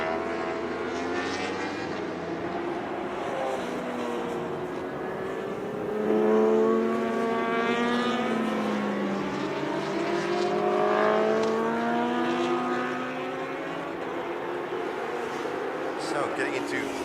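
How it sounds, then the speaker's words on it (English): Honda CBR1000RR superstock motorcycle racing engines wail past on a circuit, rising and falling in pitch as bikes pass at speed, with a race commentator talking over the engine noise. "a Honda CBR 1000 RF that Radzi is riding."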